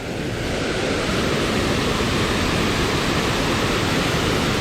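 A roar of falling water at El Chiflon's Velo de Novia waterfall in Chiapas, Mexico, close and loud, a broad unbroken rush with no voices over it.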